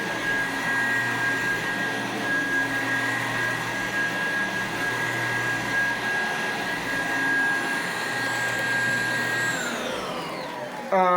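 An Electrolux 1451 vacuum cleaner running steadily with a constant whining motor hum and a sustained high tone, then winding down as the pitch falls near the end.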